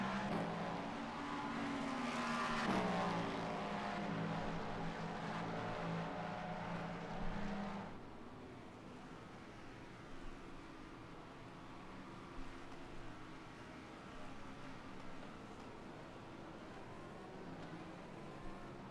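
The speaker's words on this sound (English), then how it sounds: "It's like a car is coming out of the pits." A race car engine howls and revs loudly in a racing game during an IMSA race, then drops abruptly to a quieter background drone with faint mechanical clunks. No voices are heard.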